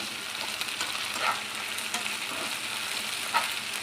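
Half a spoon of ginger garlic paste frying in a pan for paneer bhurji, a steady soft sizzle with occasional spoon stirs and light scrapes, close and fairly quiet, no talk.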